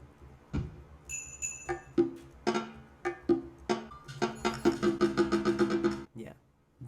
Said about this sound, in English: This patch that I have right now is called Coffee Shop, and basically has sounds from that you can hear at a coffee shop.